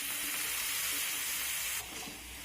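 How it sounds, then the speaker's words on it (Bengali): Sliced ridge gourd sizzles and fries in a pan with potatoes and shrimp while being stirred, a soft continuous crackling hiss that drops a little near the end, no talk. "সমস্ত কেটে রাখা ঝিঙে দিয়ে দিয়েছি। এবার আমি নেড়েচেড়ে নেব।"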